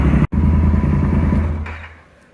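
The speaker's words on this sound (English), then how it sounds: "we just need to warm up the engine on a little bit. So we just turn on the engine for roughly 1 or 2 minutes" A Yamaha Super Tenere motorcycle engine idles steadily close by while warming up, a continuous low throbbing rumble with a brief cut near the start, easing off slightly toward the end.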